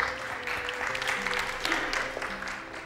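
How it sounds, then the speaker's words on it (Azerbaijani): A studio audience at a TV reunion show applauds steadily to see off departing guests, a dense, continuous wash of clapping hands that stays fairly even throughout. "Buyurun, alqışlarla sizi yola salıram."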